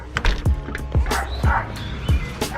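A dog barks repeatedly in sharp, close, loud yips and woofs, about one bark every half second, with a person's voice faintly in the background at times.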